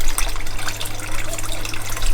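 Water splashes and gurgles steadily in a backyard aquaponics tank as baby koi are put in, a continuous close wash of liquid sound with a low hum underneath.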